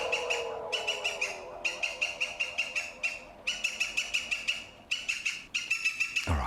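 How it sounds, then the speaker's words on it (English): A cartoon woodpecker character gives bird-call sound effects: bursts of rapid, rhythmic chirps repeated in several loud runs, then cut off abruptly. "my exuberant sidekick, Mr. Green the Woodpecker"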